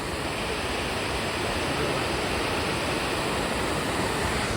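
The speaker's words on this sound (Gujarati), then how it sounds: "જો ખાલી તમે પાણી કેવું મસ્ત પડે" Water falls steadily at the Droneshwar Mahadev temple in Diu, making a continuous, even rush of broadband noise that stays close and constant throughout, with no voices.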